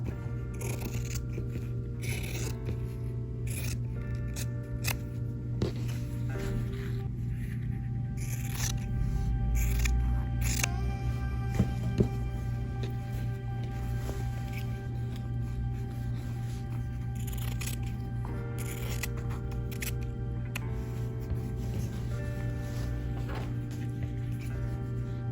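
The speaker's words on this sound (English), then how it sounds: "I will cut this out." Scissors cut out a fabric piece for a square jadeite salt cellar pincushion, making repeated close, quiet snipping and rustling sounds in an uneven rhythm over a steady low hum, with no talking.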